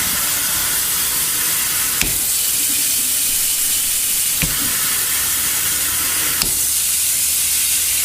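A water sprayer runs in a sink while a Shih Tzu gets its bath, giving a steady, loud hissing spray with a few faint knocks and no voices.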